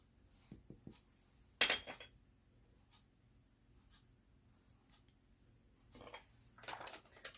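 Yeast, sugar and salt being mixed in a bowl for dough, quiet scraping and a few sharp clinks of a utensil against the bowl, spaced irregularly over near silence.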